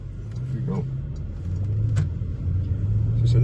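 A 2019 Porsche Panamera GTS engine pulls away from rest, a steady low rumble that builds gently in loudness over a few seconds, heard from inside the car.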